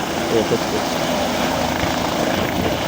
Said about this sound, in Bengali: বড় বড় হেলিকপ্টার আসছে